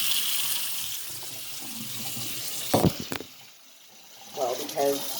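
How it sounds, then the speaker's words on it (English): Cold water runs from a kitchen tap into a sink in a steady rushing stream, followed by a couple of sharp clunks and a pause before the flow picks up again, close by. "Run some cold water"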